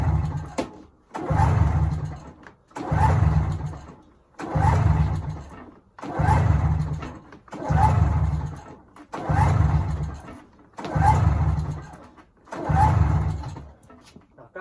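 A 1997 Yamaha Vmax XTC 600 snowmobile engine cranks over in about nine evenly spaced, rhythmic start attempts, each a loud churning burst lasting over a second with short gaps between, never catching to a steady idle.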